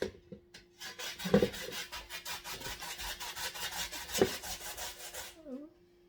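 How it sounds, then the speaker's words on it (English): Peeled sweet potatoes being grated by hand for Jamaican sweet potato pudding, a rapid rhythmic rasping scrape repeating steadily for several seconds up close before stopping. "So I am going to grater the potatoes."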